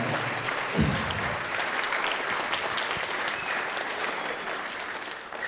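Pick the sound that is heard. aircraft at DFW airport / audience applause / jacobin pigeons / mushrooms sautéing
audience applause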